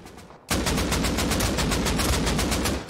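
Sustained automatic AK rifle fire in the video game Rust, a rapid, steady burst of loud shots starting abruptly and continuing without pause for a few seconds.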